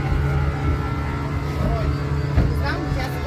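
A boat engine drones low and steady on the Nile in Egypt, close by and fairly loud throughout, with voices talking over it near the end.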